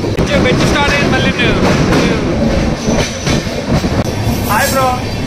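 Vistadome glass-coach train on the Vizag to Araku line pulling away again, with wheel clatter, rattling carriages and brief squeals, loud and close, mixed with voices.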